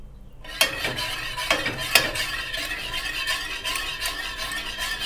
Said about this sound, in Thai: เอาน้ำแป้งที่ละลายไว้กับน้ำเห็ดหอมใส่ค่ะ